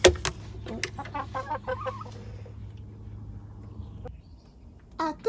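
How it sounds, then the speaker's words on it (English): Rescue hens in a chicken coop cluck and squawk in short, near bursts, with a steady low hum underneath and a quieter lull before a final flurry of clucks. "Now Clucky isn't looking too bad with her comb, but the others are"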